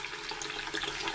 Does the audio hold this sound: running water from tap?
yes